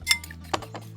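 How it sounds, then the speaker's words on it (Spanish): Egg whisked in a bowl for a meat loaf mix, giving a few light metallic clinks of utensil against the bowl, close and brief. "Vamos a batir un huevo en un bol."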